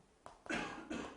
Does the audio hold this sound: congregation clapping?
no